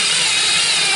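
A power driver sinks a screw into drywall board during a small hole repair, a loud, steady, high-pitched motor whine heard up close for about a second with no talk.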